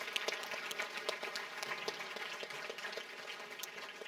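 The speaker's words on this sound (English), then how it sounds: "can we give a big round of applause for Apollo Strings" Gala guests at a Make-A-Wish charity event give a round of applause for a string ensemble, a soft, distant patter of many hands clapping that stays even and faint throughout.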